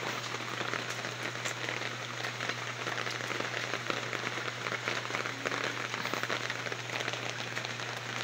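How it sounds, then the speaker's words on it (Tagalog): A sudden 4 a.m. downpour hisses and patters steadily for several seconds, thick and constant, with scattered louder drops hitting something close. "Biglang ulan ng malakas."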